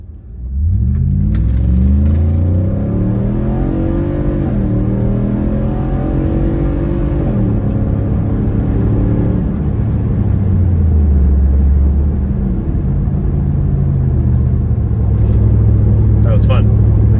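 Nissan Y62 Patrol fitted with a Manta cat-back exhaust, cruising at a steady 100 km/h: a loud, continuous low engine and exhaust drone with a gently shifting pitch that holds throughout.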